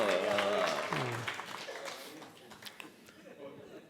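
An audience at a Hindi poetry recital in Shimla bursts into applause just after a voice speaks, the clapping swelling briefly and then thinning out and fading over a few seconds.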